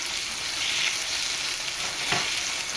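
Ginger frying in hot oil gives off a steady, fairly loud hiss and crackle, with a brief stirring scrape near the end.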